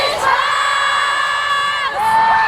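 Fans at a live SB19 fancam event roar together in a loud, sustained cheer with whoops and shouts, a brief dip, then a swell again.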